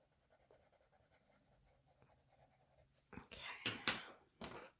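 Indra watercolor pencils scratch against paper in quiet, soft strokes, then a burst of louder, brisk scribbling strokes comes close up near the end, with no one talking.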